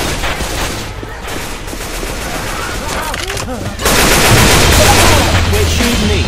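Loud automatic gunfire in Left 4 Dead 2 rattles on in dense bursts that grow heavier midway, with game character voices over the shooting.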